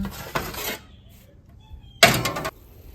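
Four pizza pans slide into an oven in two short, close metallic clattering bursts separated by a brief quiet pause.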